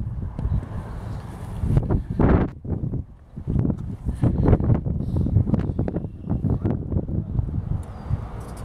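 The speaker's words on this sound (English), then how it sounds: "A little windy today." Gusty wind buffets the microphone in uneven rushes and thumps, loud and close, with no one speaking, outdoors beside a 1973 Dodge Challenger 440 Big Block.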